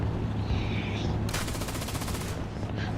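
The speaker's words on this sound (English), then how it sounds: "The reason why you saw me fire my machine guns" Tank machine guns in War Thunder fire a single rapid burst of about a second over constant engine rumble, loud and close, from a Panzer III J battle.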